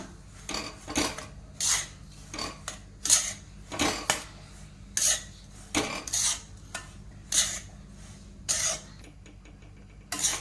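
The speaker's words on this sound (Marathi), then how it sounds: "मंद आचेवर आपल्याला चांगला रवा भाजून घ्यायचा आहे" Semolina roasting in ghee over a low flame is stirred with a spoon, giving repeated scraping clinks against the pan in an irregular rhythm, close and moderately loud, with no talking.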